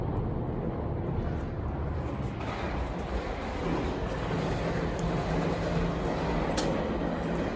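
A train rolls past in a dense, steady roar that holds at an even loudness throughout, with faint metallic squeals and clanks on top and no talk.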